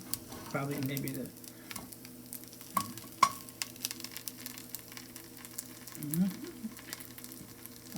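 Scrapple slices fry in a pan, giving a faint, steady sizzle with occasional small pops and scrapes, while a voice murmurs briefly at the start and again near the end.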